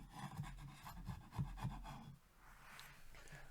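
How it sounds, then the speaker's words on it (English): A chisel scrapes old glue off the wood of a 1973 Guild F50 guitar in a run of short, rhythmic rasping strokes, close but faint, before trailing into quieter rustling. "I've just kind of been scraping it off with my chisel"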